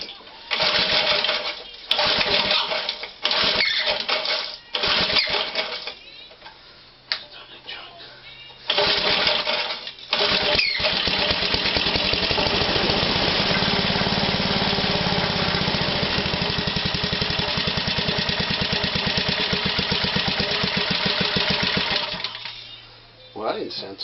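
A petrol engine on a Flymo DM rotorvator is cranked with bursts of pull-cord effort, then catches and runs steadily and loudly for much of the clip before dying down near the end.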